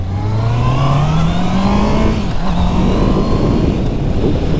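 A 2021 Honda CB650R motorcycle accelerates hard along a back road, its loud engine note climbing steadily in pitch under constant wind rush, then dipping briefly and pulling again.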